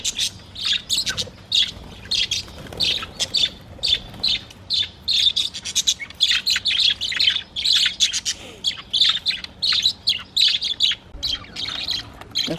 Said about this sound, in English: Oh, I love these birds so much.